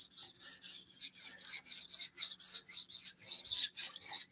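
Steel knife being sharpened with steady rhythmic strokes across a stone, each pass a bright rasping scrape, about a dozen in a row, close and alone without talk.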